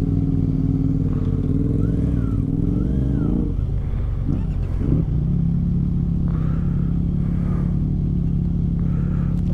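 A Kawasaki Ninja 1000 SX motorcycle ridden on the road, its engine a steady loud drone with rising and falling revs throughout, plus wind and some clatter mixed in, with a voice speaking over it.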